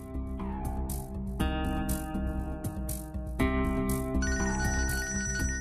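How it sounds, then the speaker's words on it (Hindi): A phone ringtone plays steadily, a looping electronic melody with bright repeating tones, loud and close, with no voices. "कौन बार बार फोन मैसेज करता रहता यार मैनू"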